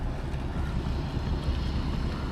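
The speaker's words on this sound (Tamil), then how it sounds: "என்ன ஹவுஸ் போட் போய்கிட்டு இருக்கு." A houseboat cruising on a backwater lake in Alleppey, heard as a steady, loud rumble of engine and wind noise with water wash, continuous and close, without talking.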